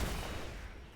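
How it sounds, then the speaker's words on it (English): Dense, continuous rattle of a repeater cannon firing in the Heroes of the Storm video game, loud and unbroken, with no talk. "Little repeater cannon damage."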